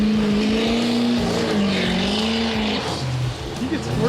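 A loud diesel pickup truck engine, an '87 Chevy R10, roars hard under acceleration on a drag strip, its pitch climbing steadily before easing off, with tire noise toward the end.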